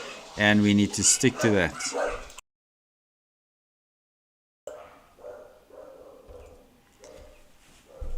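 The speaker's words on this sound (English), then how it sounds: "Dogs in the house." Dogs bark indoors in a home, a series of short repeated yaps at moderate distance after a stretch of silence, with a man's speech heard just before.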